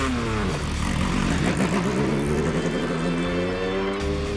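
An Alpine prototype race car leaves the pit lane, its engine note rising and sweeping upward as it accelerates, loud and close throughout.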